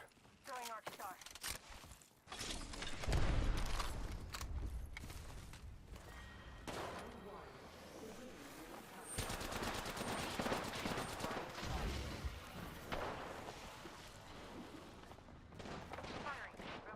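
Gunfire in the game Apex Legends, with rapid bursts of shots and crackling impacts in a tight cluster and a heavier burst midway, fairly quiet under players talking.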